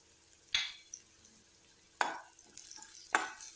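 Onions sautéing with cumin powder in a pan, three separate scraping strokes of a spatula over a quiet, low background sizzle.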